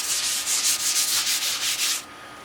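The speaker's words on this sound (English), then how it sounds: "you've got to be used to a lot of sanding" Rhythmic back-and-forth sanding of a carbon fiber and fiberglass boat hull, about nine steady strokes in a row that stop abruptly near the end, leaving a quiet hiss.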